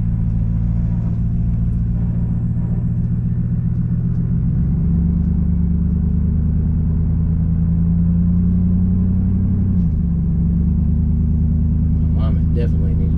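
A 1999-2006 Chevrolet Silverado with a 5/7 drop kit on a test drive, heard from inside the cab as a loud, steady, deep engine and road rumble that shifts pitch slightly midway through.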